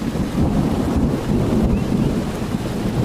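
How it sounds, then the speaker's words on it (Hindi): Heavy rain pours down steadily, with deep rolling thunder rumbling underneath throughout. It is loud and continuous, with no voices. "तभी वहाँ पर जोरदार बारिश शुरू हो जाती है।"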